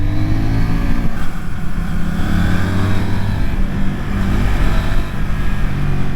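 A CF Moto NK800 motorcycle being ridden, its engine droning loud and steady with a low, even hum and slight throttle swells throughout, no pauses or voices.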